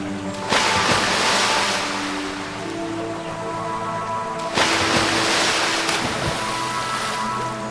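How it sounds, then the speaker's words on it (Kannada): A cartoon ship sinking into water: broad rushing, surging water noise loud throughout, swelling again midway, with low droning tones underneath and no voices. "ನಿಧಾನವಾಗಿ ಈ ನೌಕೆ ನೀರಿನಲ್ಲಿ ಮುಳುಗ್ತಾ ಇದೆ."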